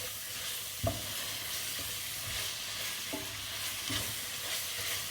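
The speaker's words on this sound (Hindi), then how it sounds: "इसको भून लेते हैं।" Chicken liver fries in a pan with a steady, close sizzle, punctuated by a few soft clinks of stirring.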